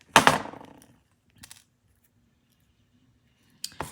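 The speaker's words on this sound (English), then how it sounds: "I'm going to go ahead and cut off my excess wire." Wire cutters snipping off excess craft wire while making a hummingbird ornament, a sharp close snip with a short metallic ring, followed by a faint tap and another brief click near the end.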